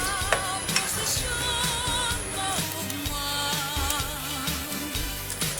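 A pot of Bicol libe-libe vegetable dish, seasoned with lemongrass, chili, smoked fish (tinapa) and salt, bubbles and simmers steadily on the stove, with a faint sizzle and a few soft clinks, and no talking.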